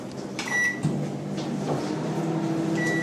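A microwave oven runs on maximum power, its steady mechanical hum close and continuous, with a few brief clicks and knocks from the door or cupboard near the start.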